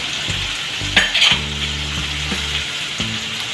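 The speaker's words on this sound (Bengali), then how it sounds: "এখন একসঙ্গে ভালো মতো ভেজে নেব" Ginger, garlic and cumin paste with spices frying in a pan for Bengali kabuli chana masala. A steady close sizzle runs throughout, with a few sharper crackles and stirring scrapes partway through.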